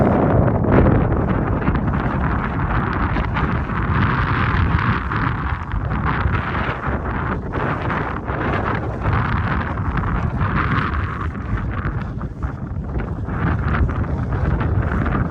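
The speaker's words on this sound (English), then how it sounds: "Sorry about the wind." Strong, steady wind blowing across sand dunes in Idaho buffets the microphone for the whole stretch, a continuous loud roar with gusty surges and no other sounds standing out.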